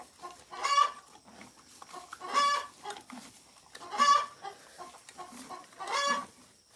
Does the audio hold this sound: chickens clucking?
yes